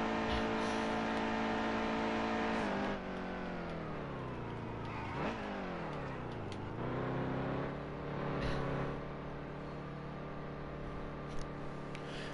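Stock cars in a PCRL Cup league race at Pocono drone along in a pack behind the pace car, engines rising and falling in pitch as they pass and shift, steady and mid-distance with no commentary.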